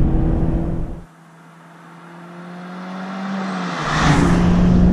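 A turbocharged Mazda Miata ND MX-5 RF pulls away hard from a standstill, the engine note dropping at the clutch release and then climbing steadily under load to a high, whirring rev before the shift.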